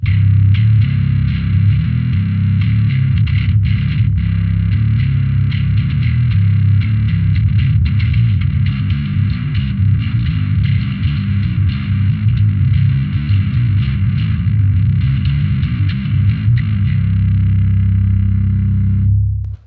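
An electric guitar is played through the Alpha distortion channel of an amp rig, a thick, saturated tone that stays loud and continuous with dense strummed chords, alone without voices, until it cuts off at the end.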